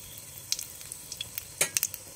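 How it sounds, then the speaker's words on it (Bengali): Cumin seeds and a dried red chilli hit hot oil as a tempering, giving a faint low sizzle punctuated by several sharp pops and crackles, the loudest bunched near the end. "কিছুটা পরিমাণে জিরে ও একটা শুকনো লঙ্কা ফোড়ন দিয়ে দেবে"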